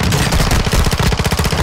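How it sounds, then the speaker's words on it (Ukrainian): Rapid automatic gunfire from the video game Call of Duty: Modern Warfare II, a loud, continuous burst of fast shots. "О, стріляють."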